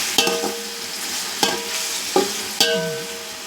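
Tomato and onion sautéing in a pan for chicken biryani, with a steady sizzle broken by a few sharp scrapes and clatters of a stirring spoon against the pan, close and fairly loud.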